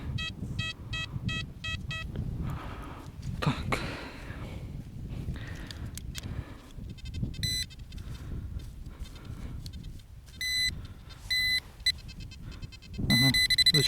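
Repeated electronic beeps from an XP Deus Lite metal detector in short bursts, some rapid and clustered, over outdoor rustling and digging noise, with a few pauses between signals, over a buried bottle cap.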